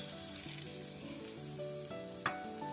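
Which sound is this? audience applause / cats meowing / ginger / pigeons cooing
ginger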